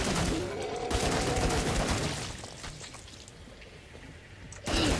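Bursts of video game gunfire from Killing Floor 2, dense shooting at first that fades to a quieter stretch before another loud burst at the end, with no voices.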